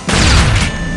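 A single heavy shotgun blast from the zombie shooter Age of Zombies, a loud close boom that rings out briefly before fading.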